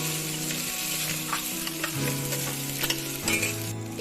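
Potatoes and paneer sizzle and fry in a pan while being stirred, a steady close frying hiss with scraping spatula strokes and occasional clinks throughout.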